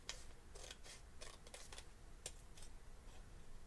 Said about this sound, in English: So once again, you'll cut on that fold line that you made.